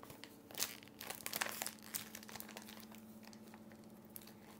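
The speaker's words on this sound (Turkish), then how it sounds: "Bunu makasla açacağım." Plastic packaging being cut open with scissors, giving close crinkling and crackling with a few sharper snips and rustles throughout.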